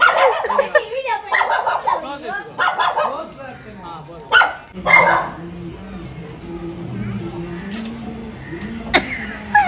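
A dog barks during an outdoor reel shoot, sharp barks scattered among loud, overlapping talk from several people.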